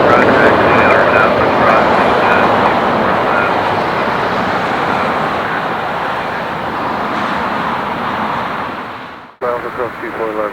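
An airliner takes off from runway 25 right at Los Angeles International Airport, a loud, broad jet roar that holds steady for about nine seconds, then cuts off abruptly, followed by brief faint talk.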